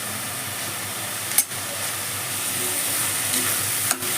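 Fresh curry leaves, two sprigs, sizzle in hot oil beside softening onion while cooking carrot egg bhurji at home, a steady close frying hiss with two brief sharper crackles.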